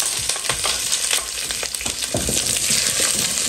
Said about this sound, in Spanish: aquí voy a sofreír la cebolla